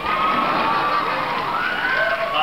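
A studio audience cheers and whoops for The OC, a loud, dense wash of excited voices and shouts with little clear clapping, sustained throughout.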